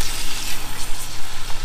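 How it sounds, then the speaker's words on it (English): Chicken breasts frying in hot oil in a Dutch oven, a loud, steady, hissing sizzle that continues throughout with no talking. "Oh, hear that sizzle?"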